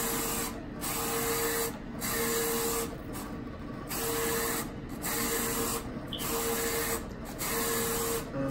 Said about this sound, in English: The last image is printing now